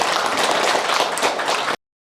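Lecture audience clapping for the speaker at a meditation talk during a Buddhist expo in Seoul, a dense, steady wash of many hands for under two seconds before cutting off abruptly.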